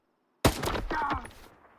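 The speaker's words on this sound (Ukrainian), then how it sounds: "Один постріл." A single sharp gunshot in STALKER 2 cracks out of silence, followed by a short rumbling echo that fades away.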